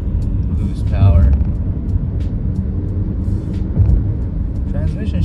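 A 2023 Volkswagen Tiguan SE in sport mode accelerates, its engine a steady low rumble with road noise that swells briefly under ongoing talk.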